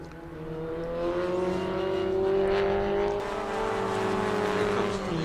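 A Formula Ford race car crosses the line at speed, its engine note loud and steady with a slight pitch rise and fall as it passes close by, a commentator's voice faint beneath.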